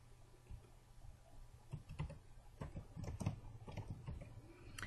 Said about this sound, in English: backspace out that expression 1 and type in the field that we want